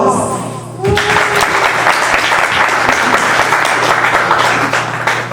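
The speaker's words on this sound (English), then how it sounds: "round of applause." A crowd breaks into loud, sustained applause to welcome the cast and crew of the drama Cleopatra. The clapping starts sharply after a brief quiet moment and continues densely over a steady background hum.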